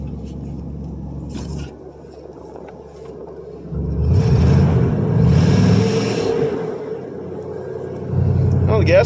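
A 1977 Buick LeSabre with an Oldsmobile 350 V8 cranks and fires on a cold start, its low engine rumble swelling loud mid-clip and then settling into a steady idle, with brief background noises.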